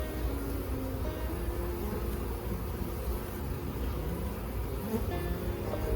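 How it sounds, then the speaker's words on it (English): A swarm of honeybees hums around an open backyard beehive, with a steady, dense buzz near the microphone and no clear talk. "There's a lot of bees on the wall there"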